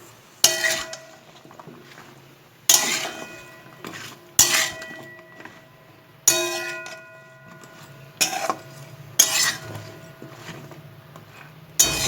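A spatula stirring a spinach, bori, bean and eggplant vegetable curry in a metal pot, a series of sharp clinks and scrapes in irregular bursts with quiet gaps between.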